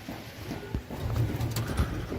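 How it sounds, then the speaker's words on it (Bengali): A female crossbred pigeon coos in a home loft, low repeated throaty calls that swell through the second half, fairly close and clear over a faint background. "এটা হচ্ছে একটা মাদি কবুতর,"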